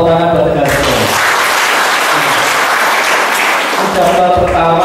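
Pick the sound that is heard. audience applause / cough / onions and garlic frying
audience applause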